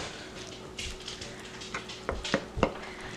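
A spoon stirs strawberry chia jam into a bowl of oatmeal, producing a few soft scrapes and clinks against the bowl that grow sharper toward the end, over a quiet background.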